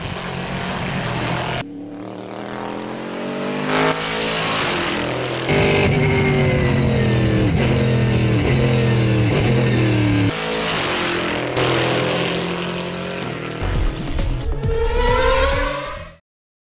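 A Cadillac World Challenge race car engine revs hard and loud, rising and falling through several sharp pulls and climbing pitch sweeps, alone with no voices.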